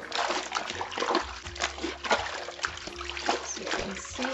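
A towel is hand-washed in soapy water, giving repeated close splashes, sloshes and wet squelches in an uneven rhythm as the fabric is worked and wrung.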